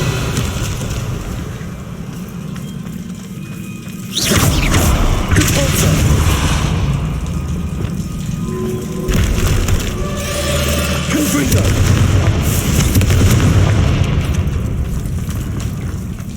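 A Confringo fire spell blasts in Hogwarts Legacy, a sudden loud whooshing explosion followed by rumbling, crackling burst noise and further booming impacts, with game voices heard around it.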